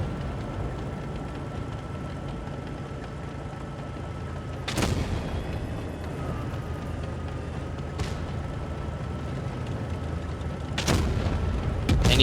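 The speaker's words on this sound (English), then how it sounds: "And he does shoot." A tank's main gun fires in World of Tanks Blitz, the 116-F3, with sharp booming shots at roughly 5, 8 and 11 seconds over a constant engine rumble and battlefield hum.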